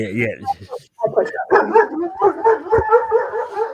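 Several dogs bark and yip loudly and repeatedly nearby, a steady run of barks with a brief whimper, alongside people talking.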